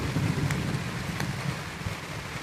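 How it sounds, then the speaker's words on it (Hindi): Unseasonal rain falling steadily on a farm, a dense, even hiss with a few sharper drop impacts, loud and continuous throughout. "बारिश तेज हो रही है धीरे धीरे, बेमौसम बारिश, लेकिन अच्छी बारिश हो रही है"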